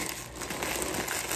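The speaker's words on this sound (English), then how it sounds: "I'm sorry for that noise of all of this plastic crinkling." Plastic wrapping on a crappie fishing basket crinkling as it is handled, a continuous close rustle for about a second and a half.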